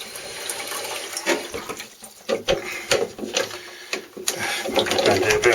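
Water runs into a toilet cistern through a ball valve, a continuous hiss and splash with irregular gurgling surges, close by and fairly loud.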